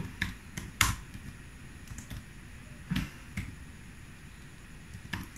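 A computer keyboard is typed on in a few scattered, sharp clicks with pauses between them, close and fairly faint against a quiet room, with no talk.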